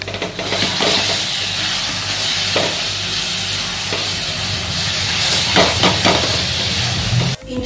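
Mango laddoo mixture with milk powder stirred in a hot pan, giving a steady hissing sizzle with soft scraping strokes throughout, close and fairly loud.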